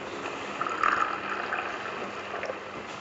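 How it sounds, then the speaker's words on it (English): Tea poured into a cup inside a polytunnel while rain drums on the roof above, a soft trickling pour within a steady wash of rain noise, faint and close. "the relaxing sound of a cuppa being poured against a backdrop of rain thundering above our heads on a polytunnel"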